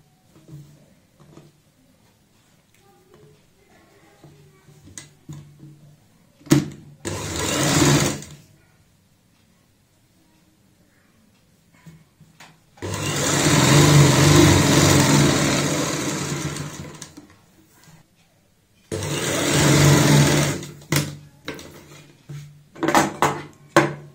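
A sewing machine stitches a sleeveless frock for a girl aged 10 to 12, running in three loud bursts, a short one early and two longer runs with a pause between, followed by brief clicks.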